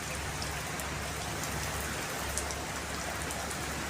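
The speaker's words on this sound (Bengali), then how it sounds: "প্রচুর বৃষ্টি হইতেছে" Heavy rain pours down steadily around a ship at Narayanganj, a dense, even hiss of countless drops striking surfaces, with no talking.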